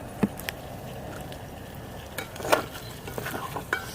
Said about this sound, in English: Alright, let's try stirring this guy up here.